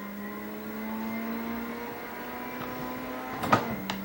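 A 380-horsepower car engine in a driving video game revs up steadily with a droning, rising tone, then shifts up early near the end with a brief break and burst.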